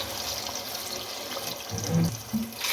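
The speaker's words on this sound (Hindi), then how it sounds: "इसमें पुलाव के लिए पानी डाल दें" Water poured into a pot of rice for chicken pulao, a steady rushing, splashing stream that continues throughout, close and fairly loud, with no voices.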